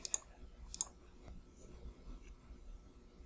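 Two quick computer mouse clicks close together at the start, sharp and close, followed by a faint quiet room tone.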